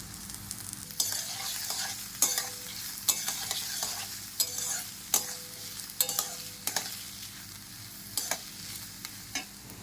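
Chopped onion, green chilli, cashews and raisins frying in a pan for poha pulao, a close hissing sizzle punctuated by about a dozen sharp spatula scrapes and taps at uneven intervals, with no speech.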